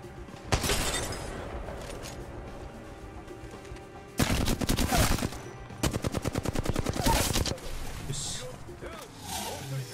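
Gunfire in the battle royale game Apex Legends: bursts of rapid automatic shots come in several clusters, loud and close, with quieter stretches between them and some faint game noise.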